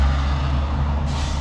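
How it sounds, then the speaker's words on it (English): A big truck rumbles past close by at the Port of Brisbane, a loud steady low-pitched drone with a brief hiss of an air brake, no voices. "There it is, another one there."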